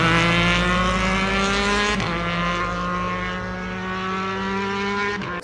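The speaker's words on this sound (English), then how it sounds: "765cc triple, and it sounds glorious." A Triumph Street Triple 765cc three-cylinder motorcycle engine runs loud and steady with a rich, buzzing harmonic drone, briefly dipping as the rider shifts around two seconds and again near the end.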